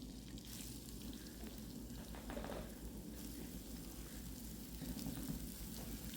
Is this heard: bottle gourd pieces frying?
yes